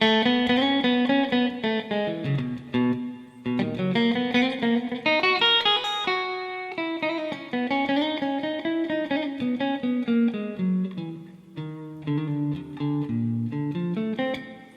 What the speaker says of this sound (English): That sounds like a pretty nice reverb.